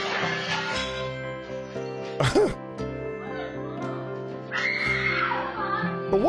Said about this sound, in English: Why are you screaming? Why are you making that noise?